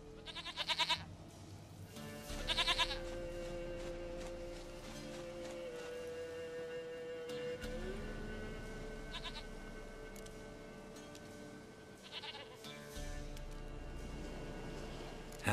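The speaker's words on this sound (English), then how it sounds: "Goat of mine! Dearest, sweetest goat!" Goat bleating in The Witcher 3: Wild Hunt, several short wavering bleats at moderate distance over a quiet ambient game soundscape.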